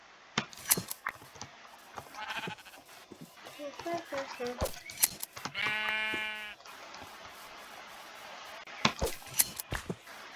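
Sheep in the video game Minecraft give one clear, drawn-out wavering bleat near the middle, set among sharp clicks and scattered game effects, with someone speaking quietly at times.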